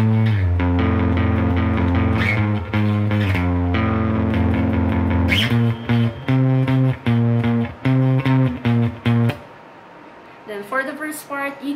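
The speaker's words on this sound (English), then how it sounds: "So I just wanted to show you guys really quickly that you can also play the song on the guitar." Distorted electric guitar plays the chorus riff of a song, the same notes as the bass line, as loud sustained chords through an effects unit, breaking into short choppy stabs near the end.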